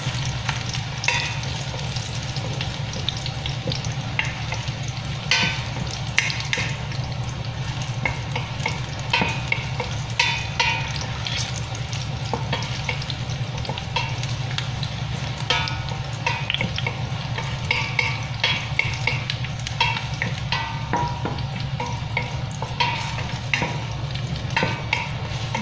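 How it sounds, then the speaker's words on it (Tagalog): Garlic sautéing in oil for beef kare-kare, a constant close sizzle with frequent clacking stirs of a utensil against the pan, no voices. "Gisa-gisahin hanggang lumabas ang amoy ng bawang."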